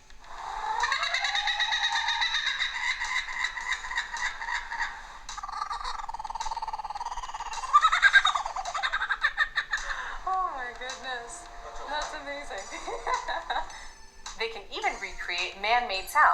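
A male lyrebird runs through imitations of other animals' calls, with warbling whistles, sweeping tones and chuckling notes close by, sometimes clear and sometimes in a busy, varied sequence.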